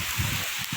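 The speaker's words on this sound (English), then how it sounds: "It is raining heavily right now." Heavy rain falls steadily outdoors in Madurai, a dense, continuous hiss close by with no voices over it.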